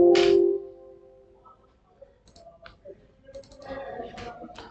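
A single key press on a computer keyboard while working in an Excel spreadsheet: one loud, sharp click at the start, then quiet, faint scattered clicks and soft rustling afterward.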